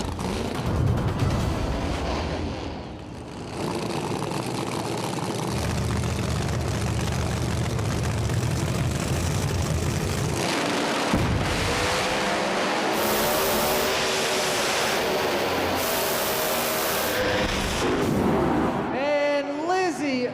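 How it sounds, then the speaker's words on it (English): Two drag racing cars at a Street Outlaws No Prep Kings grade 8 event launch and roar down the strip, a long, loud, sustained engine blast with crowd noise and an announcer's voice over it. "What a drag race between those two, but Lizzie turns on the win light there."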